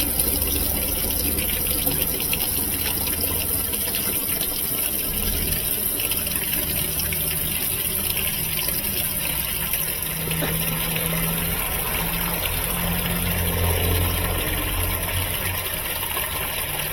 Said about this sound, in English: And now I think it's going to fill.